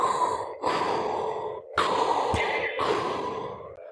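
A voice imitating Darth Vader's mechanical breathing, with several long, loud, harsh breaths in and out, each separated by brief pauses.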